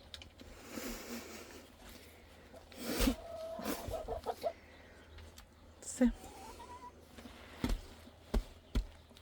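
Hens cluck and call near the microphone amid scratching and tapping sounds, with a person talking now and then.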